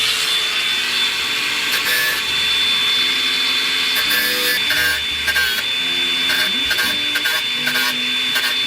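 An angle grinder cuts down metal ribs on a Pontiac Firebird, making a steady, harsh grinding whine that runs without a break for the whole stretch, close and loud, with small shifts in pitch as the disc bites.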